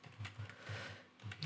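Quick bursts of keystrokes on a computer keyboard while entering Python script code, light close clicks in a short uneven rhythm with no voice.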